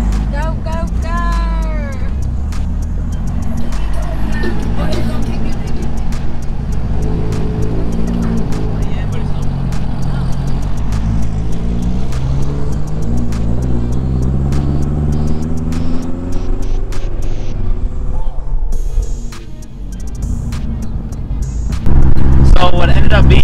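A boosted Toyota pickup truck engine runs steadily with a deep low rumble and rises through several revs that sweep up and down in pitch, while people talk over it and cheer near the end.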